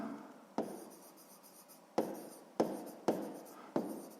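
Pen writing in a school notebook during a sixth-grade math exercise: scratchy strokes with five sharp taps of the pen landing on the page, close and fairly quiet, no talking.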